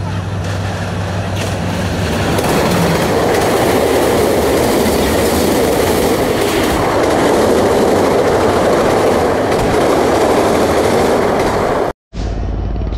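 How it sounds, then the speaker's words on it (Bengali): A train on the Benapole–Dhaka line approaches and passes a railway crossing, its steady rumble and clattering wheels filling the whole clip loudly before cutting off abruptly near the end. "অনেকটা অপেক্ষা করার পরে এখন সেই ট্রেনটা এসেছে"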